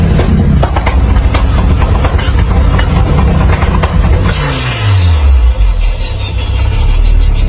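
Race car turbo engine with an anti-lag system, fuel exploding in the hot exhaust, loud continuous engine roar with rapid popping and a falling pitch sweep as the car slows.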